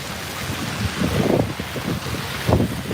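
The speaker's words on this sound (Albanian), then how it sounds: "Problemi është sepse ka shumë intensitet presioni i erës." Strong wind buffets the microphone during a snowstorm, a continuous low roar with gusty swells that peak around the middle and again near the end, no voices heard.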